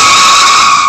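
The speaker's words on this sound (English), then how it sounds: "all you're going to hear is the tire screeching" Loud, close tire screech from a car, a single sustained high squeal lasting under a second with no break, standing alone without voices.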